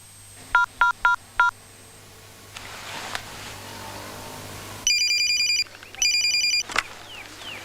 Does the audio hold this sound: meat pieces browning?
no